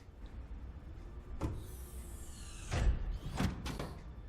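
A base door in Subnautica Below Zero swings shut with a few clear knocks and a latching clunk, the loudest impacts coming near the end over a low steady hum.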